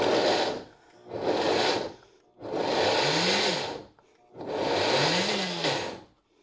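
A blender pulses leftover ham in four bursts of loud whirring separated by short pauses, the motor pitch sagging and rising as the chunks catch and spin.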